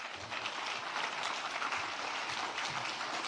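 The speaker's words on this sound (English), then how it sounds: "I would like to have a round of applause for the wonderful presenters." A closing session audience applauds the presenters, a steady dense wash of clapping filling the room throughout, fairly loud and continuous with no voices standing out.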